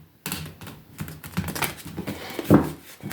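A deck of 77 tarot cards is shuffled by hand, giving a continuous close, dry papery clatter and rustle of cards sliding and tapping together, with a slightly heavier slap near the end.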